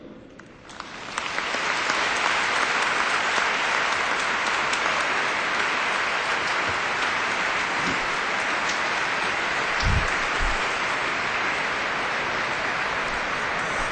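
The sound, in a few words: applause for cathedral choir and musicians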